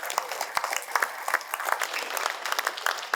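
Audience applause at the opening ceremony of a Blackfoot language symposium, a steady dense patter of many hands clapping indoors, moderately loud and continuous throughout.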